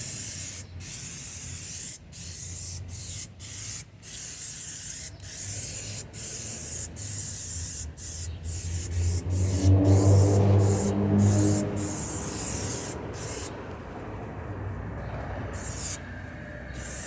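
Tire shine is sprayed onto a car wheel in steady bursts, a close hissing spray with short pauses between squirts, plus a louder rushing stretch midway through.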